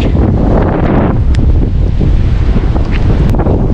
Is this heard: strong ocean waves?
yes